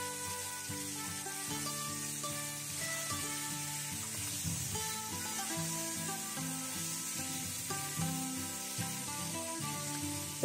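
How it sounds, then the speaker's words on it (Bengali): Cauliflower florets frying in hot oil until reddish-brown, a continuous soft sizzle with faint stirring in the background. "এবার আমি ফুলকপিগুলো ভালো করে ঠিক এইভাবেই লাল লাল করে ভেজে নেব"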